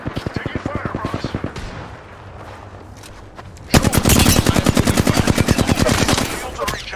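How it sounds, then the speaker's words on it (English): Rapid automatic gunfire from enemy squads in a video game, a sustained loud burst that begins abruptly partway through, following quieter rhythmic firing under talk at the start. "squad is firing at you"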